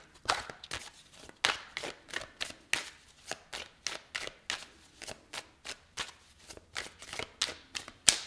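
A tarot card deck is shuffled close up in quick, rhythmic riffles and snaps, repeating steadily throughout with no talk.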